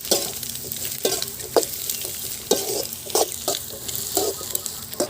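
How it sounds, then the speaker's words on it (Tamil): Capsicum stir-fried in a pan for homemade chicken noodles sizzles loudly and steadily, with repeated sharp scrapes and clacks of the spatula stirring close by. "கேப்சிகம் நல்லா வதங்கிடுச்சு."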